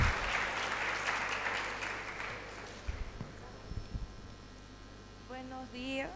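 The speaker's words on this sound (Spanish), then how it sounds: "Un fuerte aplauso, por favor." Audience applause after a medical conference talk on plant poisoning, loud and dense for about three seconds, then thinning to scattered claps over a steady mains hum, with faint tonal sounds near the end.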